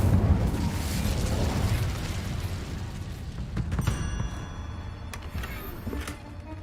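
Incendio fire spell cast in Hogwarts Legacy, a roaring burst of flame and rumble that swells then fades, followed by scattered crackles and ringing magical effects.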